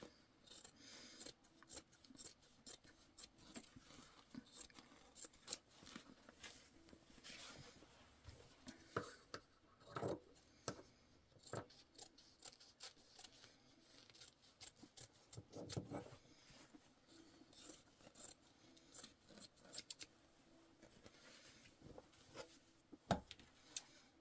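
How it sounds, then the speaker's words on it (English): Scissors snip along the fabric edges of a refillable catnip mat, a steady run of quiet, close cutting and rustling cloth with no talking. "So I'm just going to go through and trim it off the edges."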